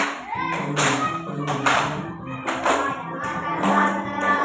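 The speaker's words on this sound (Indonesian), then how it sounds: "Coba tepuk tangan." Children in a classroom clap their hands in loud, rhythmic bursts of several claps each, repeating steadily over a low background hum, with no talking over them.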